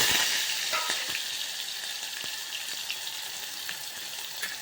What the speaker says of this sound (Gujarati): અને રીંગણ બટેકાનું શાક વઘારું છું